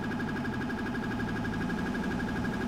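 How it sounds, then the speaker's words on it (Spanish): Electronic siren sound from a New York police car in the video game GTA with the LSPDFR police mod, a steady looping wail holding loud and continuous throughout without any talk. "he puesto la real, la de allí, de Nueva York"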